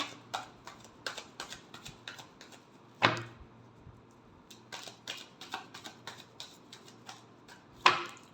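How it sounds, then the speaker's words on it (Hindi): A deck of cards is shuffled for a horoscope card reading, with quick light riffling clicks in uneven clusters, broken by two louder slaps as the deck is squared, close and unaccompanied by speech. "Last shuffle."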